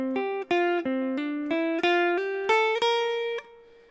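A single pitched instrument plays a rising scale exercise in even sixteenth notes within one position, about a dozen clean, sustained notes climbing stepwise over four seconds, solo with no talking.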